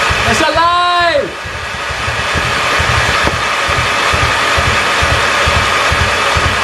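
Damaged Audi RS3 five-cylinder engine fitted in a Skoda vRS cranking briefly with a rising starter whine, then catching and settling into a loud, steady, pulsing idle close by.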